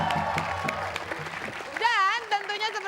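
Studio audience at an Indonesian TV talk show applauds a percussion group, a dense patter of clapping under a host's voice that rises into a sung or shouted call near the end.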